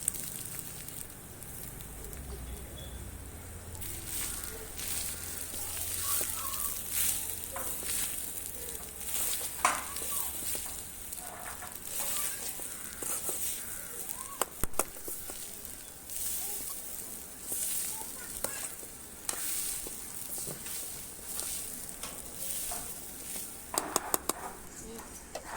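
Coconut and dried red chillies fry in a pan, a faint sizzle under scattered clinks and scrapes of stirring, with a voice talking at times throughout.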